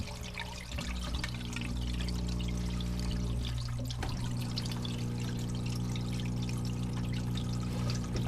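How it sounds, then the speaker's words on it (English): Dirt and water pouring from a washplant into a catch tub, a steady rushing stream under low mechanical hum, dipping briefly partway before resuming, no voices. "The dirt is going to fall into the catch tub here."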